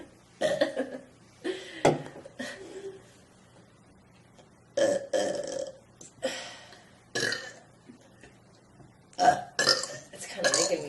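Loud, drawn-out burps from a student in a classroom come one after another in uneven bursts with quiet gaps between them, some rough and croaky and others shorter.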